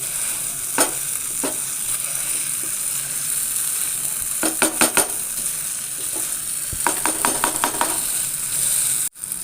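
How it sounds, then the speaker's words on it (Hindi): A masher working egg ghotala masala with green coriander in a pan over a low, steady sizzle, with clusters of quick sharp metallic knocks and scrapes, no voices. "अब मैं इसके अंदर थोड़ा सा हरा धनिया डाल दूंगी और इसे मैशर की मदद से मैश कर लूँगी"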